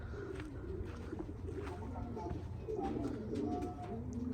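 Soft, low racing pigeon coos repeat over a steady outdoor rumble, with a few faint chirps from other birds in the background.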